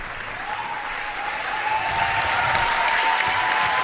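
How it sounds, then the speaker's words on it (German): Sustained audience applause in an arena after a two-woman artistic cycling final at the German championships, a steady, dense clapping wash that swells slightly midway and continues without pause, with a faint crowd murmur beneath. "Und Sie hören es am Applaus des Publikums"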